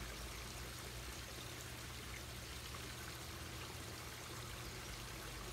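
Steady rush of water pulled into a backyard pond skimmer filter, a continuous broadband pouring and trickling hiss without pauses, even in level and close by.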